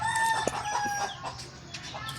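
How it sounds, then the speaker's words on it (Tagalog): Chickens cluck softly in the background on a farm, with scattered short calls over a steady outdoor hum and no talking. "May mga manok, oh."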